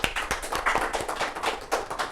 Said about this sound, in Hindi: एक बार ज़ोरदार से तालियों से स्वागत